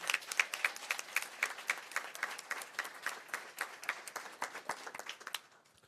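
A modest audience claps for scholars at a school governing board meeting, with individual claps distinct and fairly close, the applause thinning and fading out near the end.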